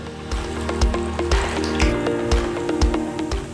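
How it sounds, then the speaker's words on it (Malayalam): Paneer frying in hot oil over a medium-high flame, giving a steady, close sizzle with crackles and pops scattered throughout and no talking. "പനീർ എടുത്ത് എണ്ണയ്ക്കകത്തിട്ട് കൊടുക്കാം"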